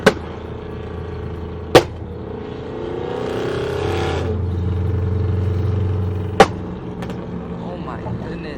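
A tuned Dodge Charger RT with a damaged axle rumbles along at low pitch, its engine swelling in the middle as it pulls, broken by a few sharp knocks and clicks.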